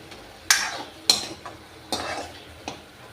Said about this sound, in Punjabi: ਆਪਾਂ ਜੀ ਤੜਕੇ ਨੂੰ ਵਿੱਚ ਵਿੱਚ ਹਿਲਾਉਂਦੇ ਰਹਾਂਗੇ ਵੀ ਥੱਲੇ ਨਾ ਲੱਗ ਜਵੇ